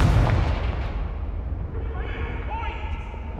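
In the video game Hogwarts Legacy, a Confringo fire spell goes off with a heavy, booming blast that decays into a rumbling tail, with a voice speaking over it.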